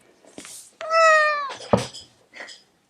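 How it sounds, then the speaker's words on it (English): A needy pet cat meows loudly and close by, one long drawn-out harmonic cry followed by a few shorter chirps, in an indoor room. "Excuse me, I have a cat here."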